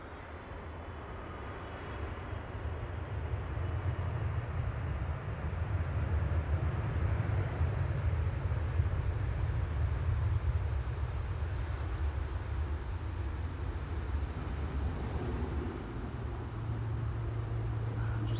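Aircraft at Manchester Airport during plane spotting, a steady low engine roar holding for the whole stretch, fairly loud and continuous with no talk over it.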